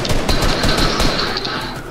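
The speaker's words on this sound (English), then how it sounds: "Who's shooting?" Rapid automatic gunfire in the Fortnite video game, a loud, continuous stream of shots filling the short stretch with no talking over it.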